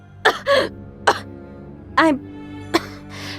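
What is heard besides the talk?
character coughing up blood, from Blazblue Continuum Shift video game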